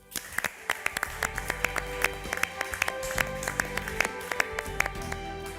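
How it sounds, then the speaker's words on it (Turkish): A small group on a televised cooking competition set claps together, distinct sharp hand claps in a loose rhythm over a low hum, fairly close and moderately loud. "Bir kez daha alkışlayalım bence."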